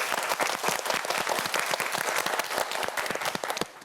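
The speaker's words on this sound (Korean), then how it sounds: "저희 박수 한번 보내주시죠." Studio audience of a Korean televised quiz show bursts into brisk, crisp clapping that holds steady for several seconds, then tapers off at the end.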